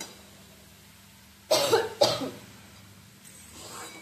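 Two sharp coughs close by from a person with a cough lingering after a cold, the second following about half a second after the first, then quiet room tone.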